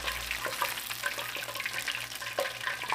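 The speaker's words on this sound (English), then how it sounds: "Fish is cooking beautifully." Battered fish fries in hot oil, a continuous crackling sizzle with small pops and spits, close and fairly soft, with no talk.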